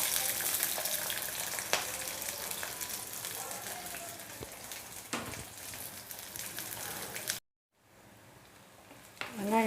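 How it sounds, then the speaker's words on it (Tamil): Onions and curry leaves sautéing in groundnut oil in a pan, giving a steady close sizzle with occasional clicks and stirs; the sound drops out briefly near the end before resuming. "வெங்காயம் நல்லா வதங்கிட்டுருக்கு."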